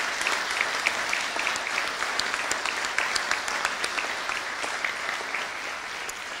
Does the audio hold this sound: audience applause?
yes